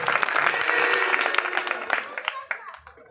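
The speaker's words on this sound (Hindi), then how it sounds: "जोरदार ताली बजाइए।" An audience at a Ramlila stage performance bursts into loud clapping that swells early then thins into scattered claps as it fades out near the end.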